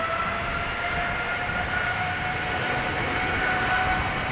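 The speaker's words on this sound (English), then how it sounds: "Seems that the Dreamliner is turning and burning" Boeing 787 Dreamliner jet engines roaring on takeoff from runway 36L at Amsterdam Schiphol, a steady, dense broadband rumble with faint tonal whine, continuous and loud throughout without any voices.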